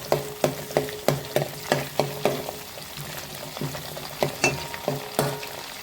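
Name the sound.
gooseberries frying with curry leaves in a pan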